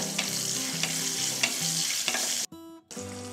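Green chillies are stirred and sautéed in oil with mustard seeds, curry leaves and asafoetida. A loud, close sizzle runs under regular stirring scrapes and cuts out briefly near the end before resuming.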